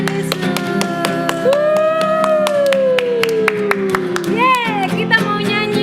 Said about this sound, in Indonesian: Oke, tepuk tangannya buat Tuhan Yesus.